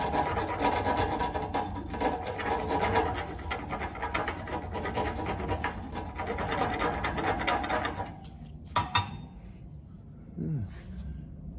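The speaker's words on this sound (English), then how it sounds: "Let's go to the vise and hit one of these with a file and see what we find underneath" A hand file rasping across a hard-coated metal part clamped in a vise, with steady rhythmic back-and-forth strokes up close, then a few clanks and scrapes as the filing stops.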